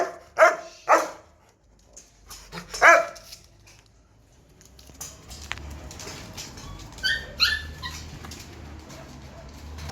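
A black dog that looks like a wolf gives several sharp, loud barks in the first few seconds, then falls quiet while faint bird chirps and low background rumble carry on.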